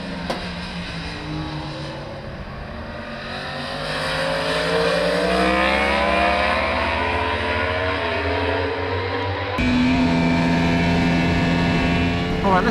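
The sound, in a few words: 2020 Yamaha R1 motorcycle engine at Jerez racetrack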